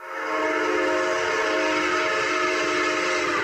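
Train sound effect from a Bengali radio drama about the 1925 Kakori station train robbery: a loud, steady rolling rumble of a moving train with a sustained tonal whistle running throughout, heard alone.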